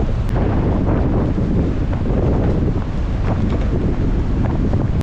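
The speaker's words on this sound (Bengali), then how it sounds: "দাঁড়ানোই যাচ্ছে না এত জোর হাওয়া" Strong wind buffets the microphone in a loud, constant roar near a waterfall in Meghalaya, with gusty rumble and rushing noise throughout, no voices.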